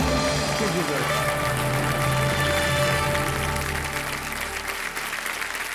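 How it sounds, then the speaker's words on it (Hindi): A studio audience at a quiz show claps loudly and continuously, dense applause that stays strong before thinning slightly toward the end, with a voice talking underneath. "इतनी ताली बज रही है जनता के पास"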